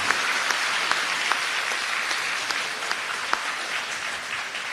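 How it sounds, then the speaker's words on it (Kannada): Steady audience applause fills a hall at a religious discourse, dense even clapping from many hands sustained throughout with no voices over it. "ಇದು ಆ ಗಾತ್ರಕ್ಕೆ ಸರಿಯಾದ ಚಪ್ಪಾಳೆ"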